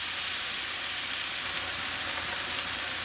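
Fish fillet frying in a pan, a continuous loud hissing sizzle that stays even throughout with no talking.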